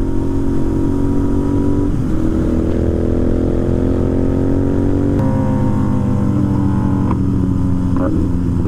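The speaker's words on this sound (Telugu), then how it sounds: "ఈరోజు టాప్ స్పీడ్ హిట్ చేయడానికి ట్రై చేద్దాం." A Royal Enfield GT650 motorcycle engine revving and accelerating hard during a top-speed run on a tuned bike, a loud, steady engine roar with rising pitch and gear shifts around two and five seconds, close and continuous throughout.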